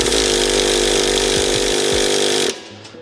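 A Traxxas T-Maxx nitro RC truck, cold after ten years unused, is cranked with an electric starter in a loud, steady buzzing whine that cuts off abruptly, leaving a brief quiet tail without the engine catching.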